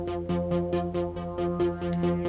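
A Dune 3 synthesizer sequence repeats fast, evenly spaced plucked notes over a sustained tonal bed, with a steady, bright pattern and no voices.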